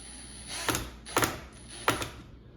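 A screw being driven into the back panel of a dishwasher during installation, heard as three separate ratcheting, mechanical bursts evenly spaced over a faint high whine, close by and alone.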